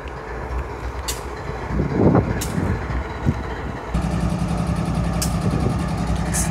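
A large BNSF diesel locomotive on a side track rumbles steadily while a burst of hissing air pressure vents partway through, followed by a steady idling drone with faint beeping in the distance.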